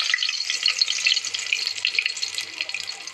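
Curry leaves sizzling in hot oil with mustard seeds, a dense steady crackling hiss with bright spattering pops, close and loud, no talking.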